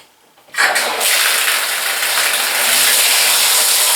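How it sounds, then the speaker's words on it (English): A bathtub being filled from a home tap, water switching on after a brief quiet moment and then gushing steadily and loudly, a constant hissing rush with no talking. "fill the bathtub up."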